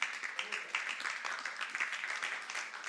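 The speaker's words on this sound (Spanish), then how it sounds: "Dale un aplauso, Señor." A congregation at a church discipleship class applauds, with dense, soft clapping that holds steady for about three seconds at a fairly faint level, with voices mixed in.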